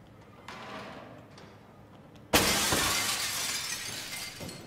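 Glass breaking in the horror game SOMA: a sudden loud shatter midway through after quiet ambient rumble, followed by a sustained wash of falling shards and debris that slowly fades.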